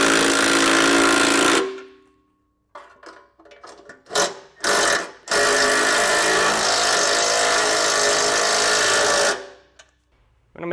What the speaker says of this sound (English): We'll come back with a 3/4 inch socket now and snug everything down.